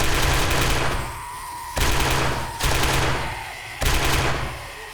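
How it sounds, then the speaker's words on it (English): Tommy gun fire in the 7 Days to Die video game: dense, loud automatic bursts in about four rapid volleys with brief decays between them, filling the whole stretch without speech. "Oh my god, I'm gonna love the Tommy gun."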